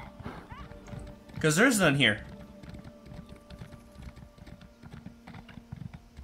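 Horse hooves clip-clop in the Elder Scrolls Online video game, a soft rhythmic patter running beneath someone talking, with keyboard-like clicks mixed in.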